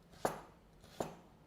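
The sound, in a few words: knife cutting onion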